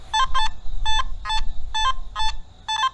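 A Nokta Makro Simplex metal detector with an SP24 coil gives repeated electronic tone bursts, some paired and some single, loud and steady over a low background rumble with no speech.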